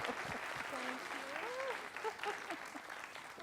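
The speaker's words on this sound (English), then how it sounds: "So give her a big round of applause." Symposium audience applauding at a community gardening event, a steady patter of many hands at moderate distance, with a speaker's voice talking over the clapping.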